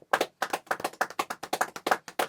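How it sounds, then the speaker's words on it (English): A few people clap in a small room during a UK rap podcast: distinct, close, fairly quick handclaps in an uneven rhythm, sparse enough that individual claps stand out, with no talking. "Can I get a round of applause?"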